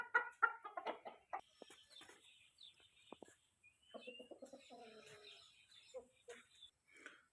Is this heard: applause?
no